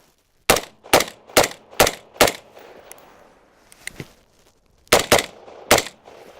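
An AR-15 rifle fires in two bursts of sharp, loud reports: five evenly spaced shots in quick succession, a pause with faint rattling, a lone shot, then three more rapid shots near the microphone.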